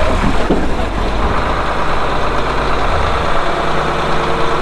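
Farm tractor engine idling with a steady, loud, low rumble that continues unbroken throughout, with no other sounds evident.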